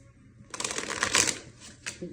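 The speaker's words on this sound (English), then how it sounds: "Let's just see what happens when I shuffle them." Oracle cards being shuffled in quick riffling bursts, a crisp papery flutter lasting over a second, close and fairly loud, followed by a brief second flick.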